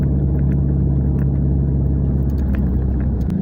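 Nissan Altima with a manual gearbox and stage 2 XTD Kevlar clutch driving along, a steady loud low engine drone and road rumble throughout with no talking.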